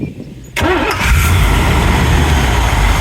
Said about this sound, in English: Chevy Corvette engine basically